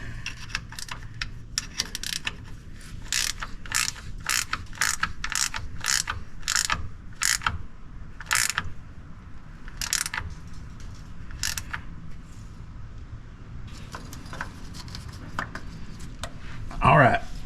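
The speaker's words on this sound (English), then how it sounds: "You got to tighten that back down." A hand ratchet clicks in repeated short bursts while tightening the bolt on a 1997 Jeep Wrangler speed sensor, close and fairly crisp over low background noise.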